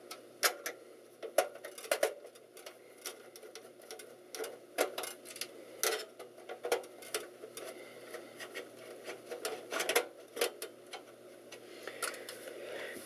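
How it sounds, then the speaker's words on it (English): Screws being removed from PCI cards inside a desktop gaming PC case, producing a steady series of close, small ticking and clicking taps as a screwdriver works. "I'm just unscrewing all the PCI cards."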